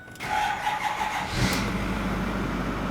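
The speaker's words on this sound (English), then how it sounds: "Now let's turn the truck on, turn the ignition to the on position, wait for the glow plugs to cycle" A 2008-2010 Ford F-250 pickup with the 6.4L diesel engine cranks briefly after the glow plugs cycle, then catches and settles into a steady, close idle.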